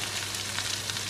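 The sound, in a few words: onions caramelizing with salt in pan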